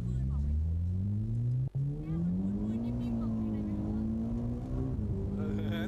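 A race car engine pushed to full boost, its close, loud droning pitch climbing steadily and holding high, with a brief cut midway.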